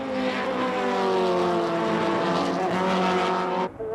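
Race cars, including an Alfa Romeo, roaring past on an SCCA Runoffs track in the 1980s–90s: a loud, steady engine drone with a rising pitch that holds for several seconds, then cuts off abruptly near the end.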